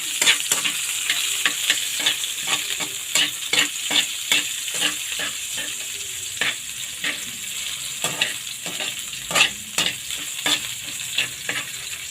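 Garlic and onion sauté in a pan for Filipino chicken pastil, a steady close sizzle broken by frequent sharp scrapes and clicks of a spatula stirring against the pan, with no voices.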